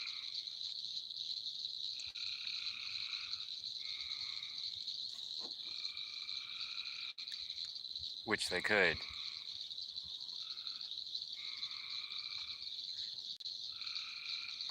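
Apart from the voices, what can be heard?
frogs croaking at night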